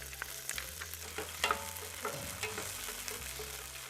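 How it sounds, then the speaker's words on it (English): Three sliced cherry peppers sizzling with garlic in a pan, an even crackling fry up close with a few stirring clacks, one sharper scrape just before the middle, and no speech. "So in with the 3 sliced cherry peppers."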